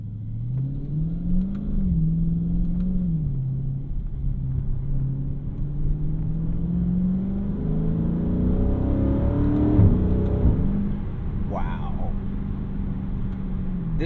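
A 2017 Dodge Charger Daytona 392 with its big V8 pulls hard from inside the cabin, a deep rumbling engine note climbing through the revs and dropping at a shift, then rising again, steady and loud throughout.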